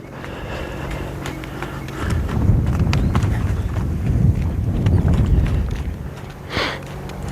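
A horse under its first saddle trots circles in a round pen, giving a run of soft rhythmic hoof thuds over dirt with some wind noise, near and fairly clear, with no talking.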